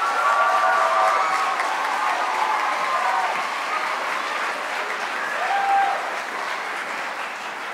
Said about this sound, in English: let's have another round of applause for ISM Singh.